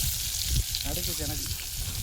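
Steady sizzling hiss of large murrel fish pieces frying in hot oil, constant and close, with faint background noise and no clear speech.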